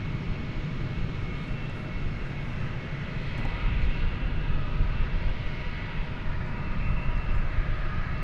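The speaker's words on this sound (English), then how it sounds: "An Airbus A321 flight 2673." Airbus A321 airliner on flight 2673 at the runway at DFW, a steady broad engine roar that swells slightly midway and holds continuously, fairly distant and unaccompanied by voices.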